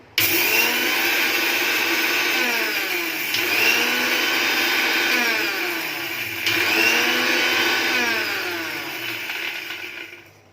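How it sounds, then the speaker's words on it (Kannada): A kitchen mixer grinder powders flax seeds, its motor whining loudly and steadily with a few brief dips and surges as the load shifts, running alone for about ten seconds before cutting off. "ಮಿಕ್ಸಿ ಮಾಡ್ಕೊತೀನಿ ಫ್ರೆಂಡ್"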